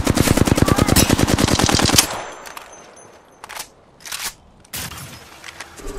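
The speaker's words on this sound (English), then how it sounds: "Getting shot at." Apex Legends gunfire opens with a rapid, loud automatic burst for about two seconds, followed by scattered single shots and short bursts at lower volume.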